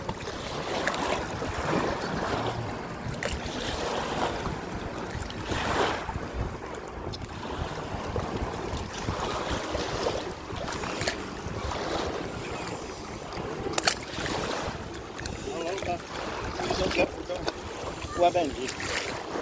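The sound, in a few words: waves lapping against inflatable pontoon boat on water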